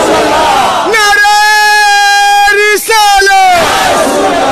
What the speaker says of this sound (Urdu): نعرے کا جواب مرد بڑھ کے دینا ہے.